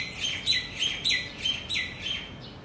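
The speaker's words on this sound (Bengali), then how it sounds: "আমার ব্যাকগ্রাউন্ড মিউজিক দিচ্ছে পাখিটা।" A small bird sings outdoors in a run of about seven bright, evenly spaced chirps over faint background hiss, fairly near.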